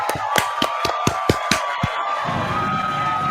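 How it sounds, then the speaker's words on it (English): A crowd claps in a quick, regular rhythm for about two seconds, with sharp, loud hits, then settles into a steady murmur of cheering in the background. "I think it's cheering"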